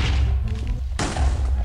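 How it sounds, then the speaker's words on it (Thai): A TNT or C4 block detonating in Minecraft, a single abrupt blast bursting in near the middle and trailing off into a loud low rumble, with no talk over it. "ผมจะโดน C4 ระเบิดตายในอีกไม่ช้า 3 2 1บึ้ม"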